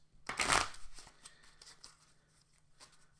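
Wrestler cards from the Book It! pro wrestling promoter card game are shuffled, a quick loud riffle burst followed by a few softer taps and shuffles as the deck settles, close and quiet.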